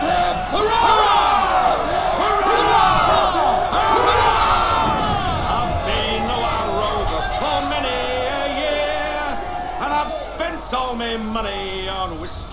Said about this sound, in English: How's about a cheer for the boys, then, eh?